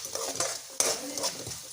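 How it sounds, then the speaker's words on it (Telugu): Lemon rice tempering sizzles in a pan while a utensil stirs it, scraping and clinking in quick irregular strokes over a steady close frying hiss. "ఓకే, ఇప్పుడు మిక్స్ చేయాలి బాగా. బాగా మిక్స్ చేయాలి."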